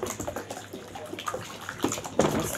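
About two and a half liters of water are poured into a homemade liquid dish soap mixture, giving an uneven splashing and gurgling that swells louder toward the end.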